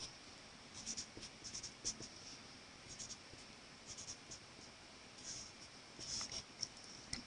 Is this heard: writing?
yes